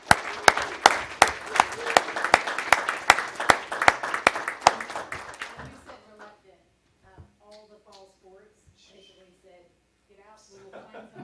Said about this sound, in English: And once again, a round of applause for AJ.